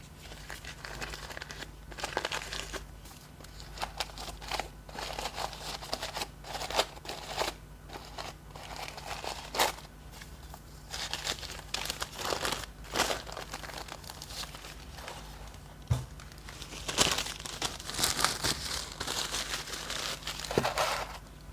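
Packaging of a Comandante C40 Nitro Blade coffee grinder being opened and unwrapped, giving repeated close crinkling, crunching and rustling bursts with brief pauses, no voices.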